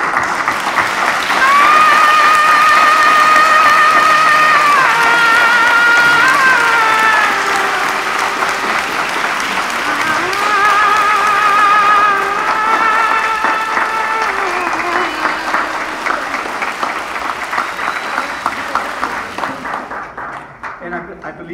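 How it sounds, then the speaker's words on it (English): An audience at a retirement party applauds steadily for about twenty seconds, a loud, dense wash of clapping that tapers near the end, with voices calling and cheering over it. "enjoy the round of applause from all of us that honor and respect you"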